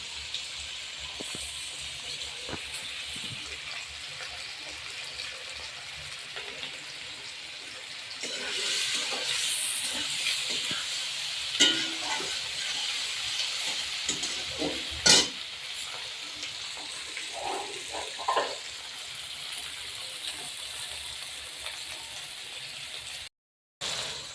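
Chopped onion, chilli and tomato frying in oil over raised heat, a continuous sizzle that grows louder partway through, broken by scraping and knocking as a spoon stirs the pan.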